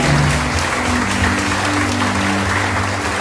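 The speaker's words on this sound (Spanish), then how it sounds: "¿Cuántos le dan un fuerte aplauso a Dios?" Church congregation applauding God during a Spanish-language worship service, a steady wash of clapping lasting the whole stretch with a low musical hum beneath.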